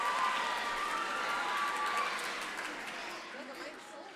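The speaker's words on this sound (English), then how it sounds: "Please give them another set of applause." A school assembly audience applauds after a Hispanic Heritage Month dance performance, a soft, distant patter of clapping that slowly thins and fades.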